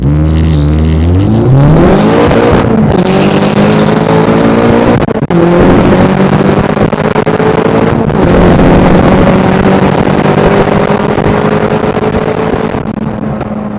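A turbocharged 16-valve Vauxhall Nova drag racing a BMW M3, its engine roaring hard and climbing through the gears with brief dips at each shift, loud and close with heavy wind buffeting.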